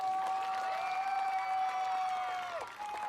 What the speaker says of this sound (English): let's have one more round of applause for these seniors